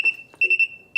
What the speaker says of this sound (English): you can pour in the water, and it is going to beep